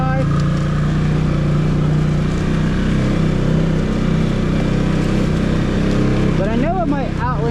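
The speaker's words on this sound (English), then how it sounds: "4-wheel drive through the little mud hole here" A 2024 Can-Am Outlander Pro HD7 XU ATV in 4-wheel drive churns through a washed-out woodland mud hole, its engine droning steadily up close with a short rising rev near the end.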